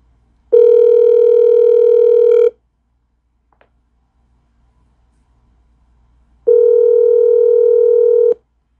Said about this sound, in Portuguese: eu vou ligar agora